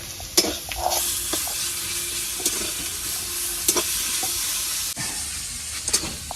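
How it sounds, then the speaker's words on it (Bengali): Food frying on a home stove while a mother cooks, a steady close sizzle with occasional clinks and stirring scrapes, no talk. "আর দেখো এইখানে হচ্ছে রান্না চলছে"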